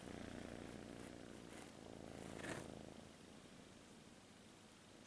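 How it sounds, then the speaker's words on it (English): A cat purrs in a steady, continuous low rumble, close and soft, with no voices over it. "they purr the way he purrs now, because they feel good."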